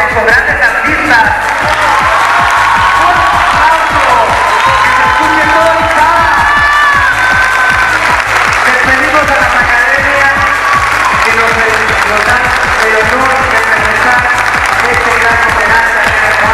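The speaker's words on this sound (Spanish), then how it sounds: "pedirle un fuerte pero fuerte aplauso a los patrocinadores y sobre todo a estos grandes artistas" Loud audience applause for sponsors and artists at a live event, a thick, continuous roar of clapping mixed with cheering and occasional whoops, sustained and close throughout.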